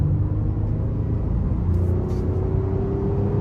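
A 2023 Honda Pilot V6 with AWD accelerates on the road under light throttle, a steady, close engine rumble and drone with a slowly rising tone and no talking.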